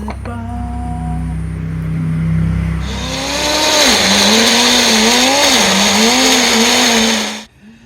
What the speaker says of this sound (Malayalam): നമുക്കിത് മിക്സിയിൽ അടിച്ചെടുക്കാം